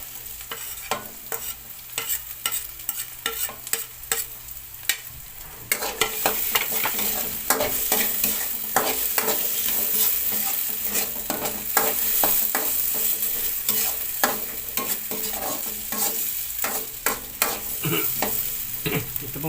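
Ground pork and potatoes sizzle steadily in a hot pan while a utensil scrapes and stirs in frequent clattering strokes, the frying growing louder and denser partway through, with no voices.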